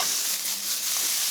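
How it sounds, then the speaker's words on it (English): Thick chunks of bacon sizzle as they start frying in a pan. A brief, steady, close hiss with no talking. "Bacon into the pan."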